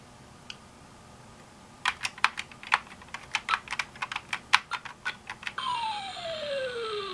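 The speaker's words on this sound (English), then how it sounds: "I'm going to push the end key to play the game" Keys on a PS/2 keyboard are pressed to play Snake on a Gigatron computer: a rapid run of crisp, close plastic clicks in an uneven rhythm, followed by a sustained electronic tone that sweeps downward.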